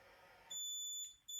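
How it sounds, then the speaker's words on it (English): Electronic beeps from an AP Inspiration closed-circuit rebreather controller as it switches back down to the low set point: a loud, steady high tone that starts partway through, breaks off briefly, then resumes. "You also get a beep to know that you've gone back down to low set point."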